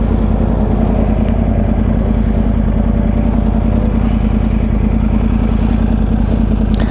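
A 2013 Yamaha R1 sport motorcycle idles steadily close by, a continuous low, throbbing engine note with faint clatter and no talking.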